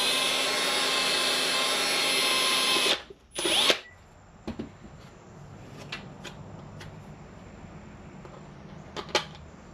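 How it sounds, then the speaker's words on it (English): A power drill bores a tiny hole in a car A-pillar, whining loudly for about three seconds, then a short second burst, followed by faint clicks and handling noises. "we're going to drill a very, very tiny hole in the A-pillar so that these can screw in"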